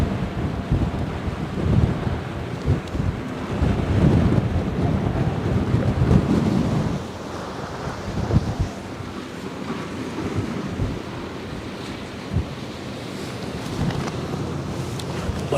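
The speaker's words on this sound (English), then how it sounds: "Let's sit out of the wind for at least 1 minute." Wind gusting along the Westerschelde shore, a loud rushing roar buffeting the microphone, stronger in the first half and then settling into a steadier blustery hiss with faint surf underneath.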